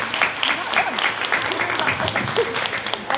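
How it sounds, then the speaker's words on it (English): Moderate applause from an audience at a green jobs panel event, a scattered patter of clapping with voices mixed in, steady across the short span. "would love you all to give them a round of applause"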